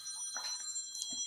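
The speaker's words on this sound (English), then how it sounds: "Such a modern ringtone as well." A modern phone ringtone sounds for an incoming call during a livestream in a garage studio, with faint repeated electronic tones over a quiet room background.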